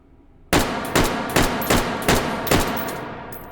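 Six sharp STG77 rifle shots fired at a target at a steady pace of about one every half second, each a loud close crack with a short decaying tail, following a brief quiet lead-in.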